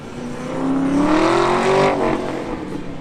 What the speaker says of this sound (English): Michael Airy in the white Camaro SS.